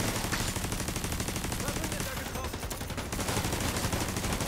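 A deployed automatic turret in The Division 2 lays down rapid, loud continuous gunfire on enemies, bursts rattling densely with a short lull midway, amid other battle noise and no clear talk.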